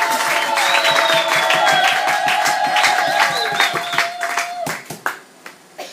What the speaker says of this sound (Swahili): Shangilia Bwana kwanza na makofi na vigelegele